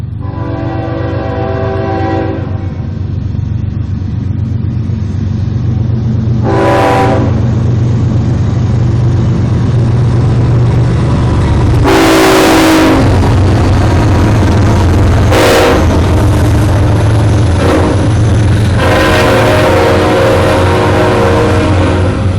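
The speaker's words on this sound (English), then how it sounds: "These horns are loud in Folkston." A CSX freight train passing through Folkston, its horns sounding loud and close in several long blasts over the constant heavy rumble of the rolling train.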